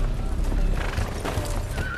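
Horses on a road in a fantasy drama scene give a loud, brief neigh over clopping hooves, close and forceful, all within a couple of seconds.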